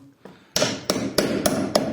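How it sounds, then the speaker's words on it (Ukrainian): Five sharp hammer blows in a steady rhythm, close and loud, each ringing briefly as staples are driven into a frame. "Приходиться добивати молотком."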